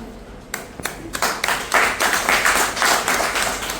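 Scattered hand claps start off separately at a general body meeting, then build into a steady round of applause from the gathered members that carries on to the end.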